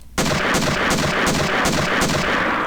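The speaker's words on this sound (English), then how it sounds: "This is the OICW. This replaces the shotgun. It actually serves as basically a super rapid-fire shotgun." Rapid bursts from the OICW weapon in the Doom 2 Twilight Warrior mod, a super rapid-fire shotgun, hammer out roughly a dozen evenly spaced loud blasts in a steady rhythm with no talking.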